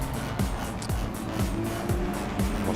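A Porsche GT race car's engine drones past at Suzuka during qualifying, with repeated rising and falling pitch sweeps as it shifts through gears, loud and continuous over a steady broadband roar on a drying circuit.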